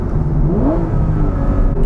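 An Aston Martin V12 Vantage S with a manual gearbox accelerates hard, its V12 engine rising steadily in pitch from inside the cabin, loud and continuous with no talking.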